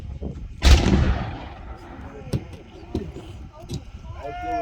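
Cannon firing at a Virginia & Truckee Railroad event: one loud, sharp boom with a long fading rumble, followed by distant crowd voices and faint ambient noise.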